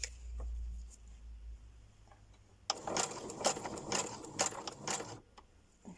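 Uten 2685A sewing machine stitching pleats into a fabric ruffle, starting after a quiet pause with a rapid run of close, clattering needle strokes for a few seconds, then stopping.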